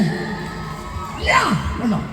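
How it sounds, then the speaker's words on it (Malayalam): A crowd of fans at a stage event cheers and whoops in response to a call for applause, the noise swelling loud in two surges over a steady background din. "മമ്മൂക്കയുടെ ആരാധകർ ഒന്ന് കൈയടിച്ചാൽ നോക്കട്ടെ"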